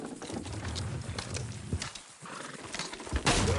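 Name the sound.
horse hooves and whinny in video game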